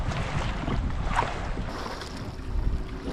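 Strong gusty wind rushes across a lake, roaring and buffeting close against the microphone with a constant broad noise and slight water slapping beneath, with no voices.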